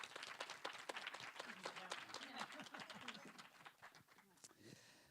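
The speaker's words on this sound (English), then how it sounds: "can I have a round of applause for our first panel, please?" Audience applause for a panel at a conference, sharp scattered claps rising over a talking voice and chatter, faint overall and thinning toward the end.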